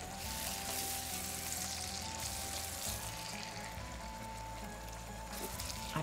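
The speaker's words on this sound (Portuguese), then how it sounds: "Primeiro vai a cebola. E aqui eu vou deixar a cebola ficar murchinha para acrescentar o alho." Chopped onion sautéing in butter for a fish tagine, a steady soft sizzle with a faint crackle running evenly throughout, close and alone.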